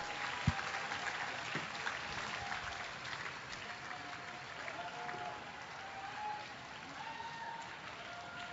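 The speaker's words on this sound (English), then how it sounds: "Big round of applause for Margaret Tome Jazz from Carver County" Steady applause from a state fair audience at a llama costume competition, a continuous wash of clapping held at an even, moderate level from start to finish, with no voices rising above it.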